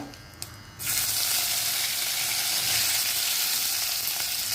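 Asafoetida and curry leaves hit hot oil with a sudden loud sizzle after a quiet moment, then a steady, dense crackling fry that holds close and strong to the end.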